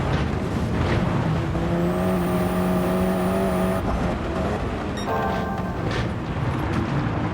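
Race car engine in a racing video game at Sardegna Windmills, droning loud and steady in a low gear at low RPM, with a brief shift in pitch partway through and no voices.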